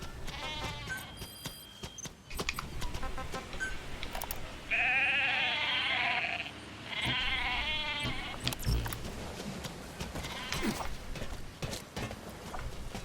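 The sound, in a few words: goats bleating in Metal Gear Solid V video game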